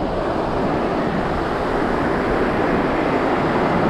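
Ocean surf rolling onto a sandy beach makes a continuous, full-bodied roar of breaking water with no distinct gaps between waves, steady and fairly loud throughout with no voices.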